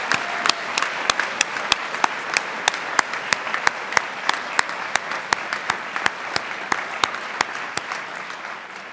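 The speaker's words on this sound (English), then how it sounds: "let's do one more round of applause for these fabulous individuals" At a 2023 university academic excellence awards ceremony, an audience gives a sustained round of applause with a few loud, evenly spaced claps standing out, tapering slightly at the close.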